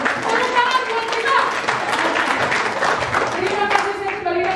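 An audience at a provincial early-childhood education coordination meeting bursts into sustained applause, with dense clapping under crowd noise and voices throughout.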